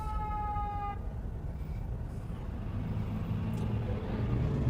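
Fire truck and rescue squad sirens wail at an accident scene, a steady whine in the first second fading into loud road and engine rumble from a moving patrol car.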